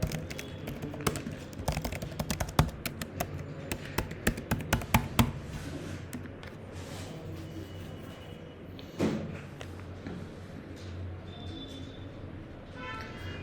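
Rapid clattering keystrokes on a computer keyboard, entering login details: a close, dense run of clicks for about five seconds, then sparser taps and a quiet room with faint background noise.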